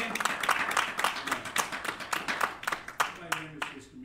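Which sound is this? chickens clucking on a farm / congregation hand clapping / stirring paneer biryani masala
congregation hand clapping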